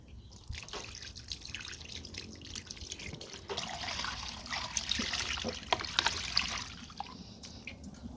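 Liquid poured into a container to soak a 40-year-old carburetor, a faint close trickle with scattered drips and splashes, loudest toward the middle.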